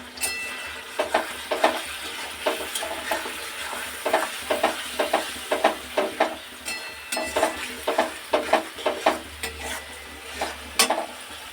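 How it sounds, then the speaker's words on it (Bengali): A spice masala with tomato, salt, turmeric and chili powder sizzles in a pan while a utensil scrapes and stirs it in a quick, repeated rhythm of sharp strokes, close and fairly loud. "নুন হলুদ ঝাল গুঁড়ো লঙ্কা দিয়ে দিয়েছি, এবার মশলাটাকে ভালো মতন কষিয়ে নেব"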